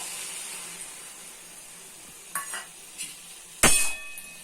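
Bitter gourd stems with salt, turmeric and mustard paste stirred in a pan, a low background sizzle broken by a few scraping spoon strokes and one sharp metallic clatter near the end.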